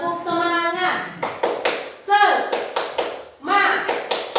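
Children clap a patterned classroom ice-breaker rhythm in short sharp bursts and pauses, close and distinct, alternating with a teacher's chanting voice.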